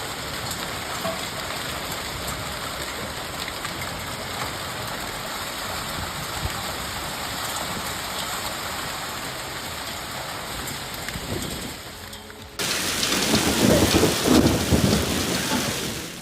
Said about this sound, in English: Heavy hail combined with strong winds swept through Great Falls, turning everything into chaos.